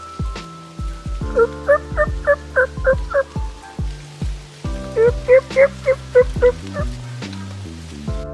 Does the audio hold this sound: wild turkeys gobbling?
yes